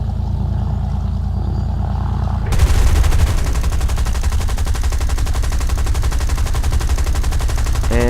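P-36A fighter's machine guns in the video game War Thunder, opening up after a propeller drone and firing a long, rapid, continuous burst that stays loud and close.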